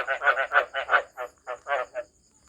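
Breeder frogs croak in a close, steady series of about a dozen rhythmic calls, loud and clear with a faint background hum.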